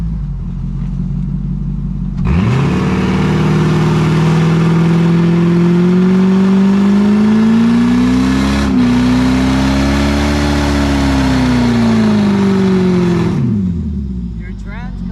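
A Lexus LS430 engine revs hard and close, rising to a loud, sustained roar that holds for about eleven seconds with a brief dip midway before winding back down, with people talking before and after.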